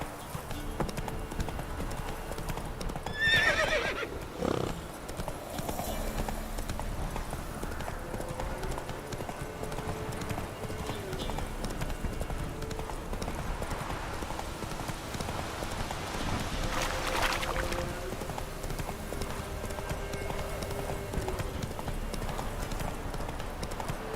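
Hooves of a galloping horse in The Witcher 3, a fast continuous clip-clop rhythm lasting the whole stretch, with a brief louder burst early on and soft ambient game sounds beneath.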